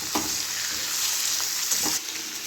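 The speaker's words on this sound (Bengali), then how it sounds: "প্রথমে ডাঁটাগুলোকে একটু ভালো করে ভেজে নেব" Pumpkin greens stalks fry in hot oil for a Bengali chorchori, a loud, dense sizzle close up with a couple of stirring scrapes, easing slightly after two seconds.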